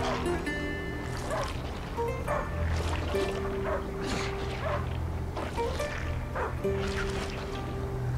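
Dog barking in the video game A Plague Tale: Innocence, a few yips and barks scattered over steady background music and ambient tones, with sloshing movement through mud.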